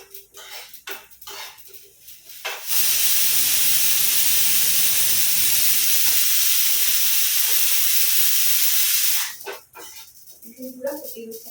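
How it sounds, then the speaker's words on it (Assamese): A kitchen pressure cooker lets out a loud, sustained whistle and steam hiss lasting about six seconds, with a person talking before and after it. "এইটো মই কুকাৰে হুইচেল মাৰিছে"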